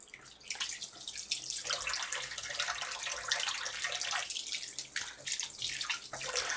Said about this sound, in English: I'm just gonna wash my hands.